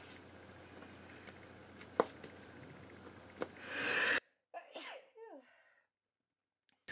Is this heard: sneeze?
yes